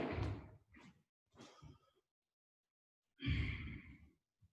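A person lying back takes slow, settling breaths, two long audible exhales like sighs with a softer breath between, close and alone.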